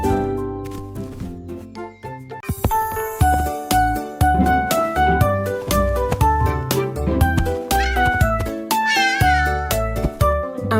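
Repeated cat meows ring out loud within a bright, busy French children's educational counting song, layered over jingly melodic accompaniment throughout.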